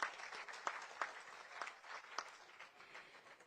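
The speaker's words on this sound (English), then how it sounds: "Thank you, and a big round of applause." Faint applause from a crowd at an international dialogue on child rights, a thin patter of clapping with a few sharper claps standing out, heard at a distance.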